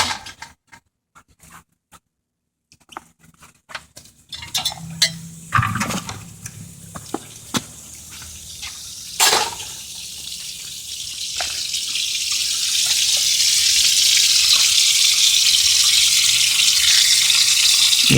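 Water flushes out of a hose through the heater core of a 1993 Toyota Tercel, starting with scattered splashes and knocks, then swelling into a loud, steady hiss of gushing water that builds over the last several seconds.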